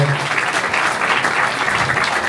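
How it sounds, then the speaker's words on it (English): An audience at a live chess event in a comedy club in Hamburg bursts into dense, loud applause, an even wash of many hands clapping close by for a couple of seconds, with no talking over it. "So give yourself a round of applause"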